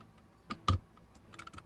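Dice clattering onto a table during a tabletop roleplaying session, a few quick sharp clicks and taps with one louder strike, close and fairly quiet with no talking.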